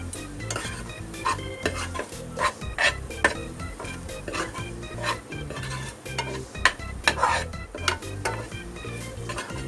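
Masala paste for stuffed capsicum frying in a pan on low heat, with a continuous sizzle and regular scraping stirs of a spoon against the pan, close and clear, without speech.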